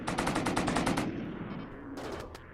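Automated turrets in a video game fire a rapid burst of about ten evenly spaced shots that stops after a second, followed by a single brief pop, loud and close with no speech.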